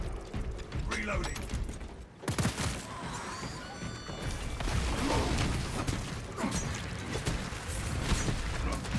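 Mechanical clicks, ratchets and clanks of a weapon reload in Space Marine 2 run through the whole stretch, dense and close, with a low game rumble underneath.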